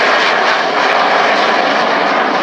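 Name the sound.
aircraft flying at RAF Cosford airshow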